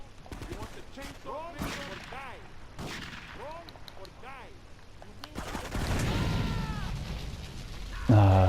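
Gunfire and rocket launcher blasts during an attack on barracks in Grand Theft Auto 3, repeated shots over warbling sirens, then rumbling explosion noise building near the end, with someone talking throughout.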